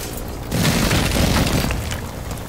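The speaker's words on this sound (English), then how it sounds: "Lay down for the airstrike" An airstrike explosion in the Mad Max video game erupts half a second in as a broad, heavy blast that rumbles for about a second and a half before slowly easing off.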